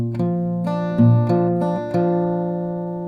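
Acoustic guitar plucking a G-based chord pattern: four clean notes in a slow, even sequence, ringing together and sustaining close and clear, with no voice.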